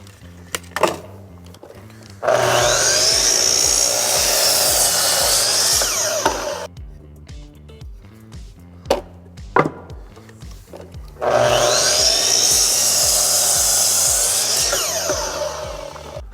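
A power saw cutting scrap wood for building tile shower niches, two loud sustained cuts with a whining motor, separated by knocks and handling of the boards nearby.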